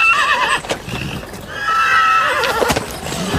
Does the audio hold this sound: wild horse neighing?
yes